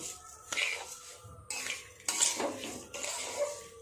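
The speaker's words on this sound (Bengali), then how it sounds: "চিনি আর নারকেল এইভাবে মিশিয়ে নিয়ে সুন্দর করে পাক তৈরি করে নেব" Sugar and grated coconut being stirred together in a pan for coconut naru, a spoon scraping and clinking against the metal in uneven bursts, close and fairly quiet.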